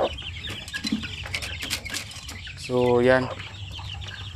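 Five-day-old shamo aseel chicken chicks peep in a farm setting, with a clear run of high cheeping near the middle and scattered chirps around it, while someone speaks briefly.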